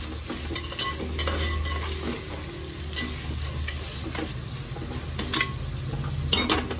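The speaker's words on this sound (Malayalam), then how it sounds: "ഈ തക്കാളിയും കൂടെ വേവുമ്പോൾ ഉള്ളി കുറച്ചുകൂടെ നല്ലതായിട്ട് വാടിക്കോളൂ." Chopped onion and tomato fry together in oil in a pan for a spicy mackerel curry. A steady, close sizzle runs throughout, broken by stirring scrapes and clicks, with no talking.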